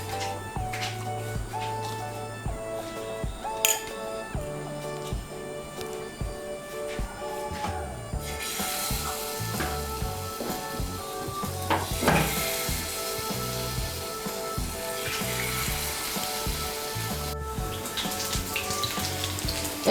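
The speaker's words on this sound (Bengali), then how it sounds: "ময়দা আর কর্নফ্লাওয়ারের ব্যাটারে ডুবিয়ে ভেজে নেব।" Pieces of steamed egg dipped in a flour and cornflour batter fry in white oil in a wok, giving a continuous crackling sizzle with scattered popping spatters that grows busier midway.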